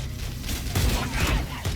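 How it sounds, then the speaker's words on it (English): Gunfire and booming explosions from a gunfight in the Halo video game, with loud bursts and rumbling impacts layered over each other. "gunfight sound effects."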